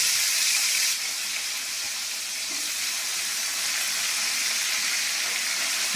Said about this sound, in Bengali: তো আলুগুলো ভাজা ভাজা করবো।